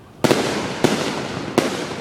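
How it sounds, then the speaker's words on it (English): Professional-grade fireworks go off on an ordinary residential street, three loud sharp booms spaced about two-thirds of a second apart, each followed by a sustained crackling rumble that fills the gaps. "These are like professional fireworks on our street"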